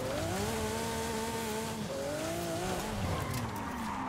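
A stock Lamborghini SVJ roars along in Forza Horizon 5, its engine note steady and loud with shifting pitch and tire squeal throughout, without speech.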